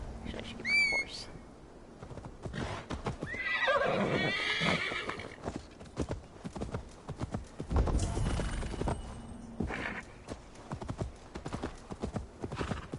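A horse in the video game Assassin's Creed Valhalla whinnies loudly near the start and again later, while steady clip-clopping hooves and a few whistles sound around it.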